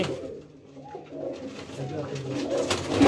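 Flying pigeons kept by a breeder coo in low, rolling calls, close by and repeated, over a murmur of background voices and noise that swells toward the end.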